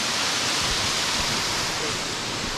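A waterfall in Samaipata, Bolivia, gives off a dense, constant roar of falling water, loud and unbroken with no voices.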